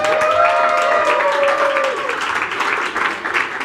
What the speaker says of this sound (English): Round of applause for Todd.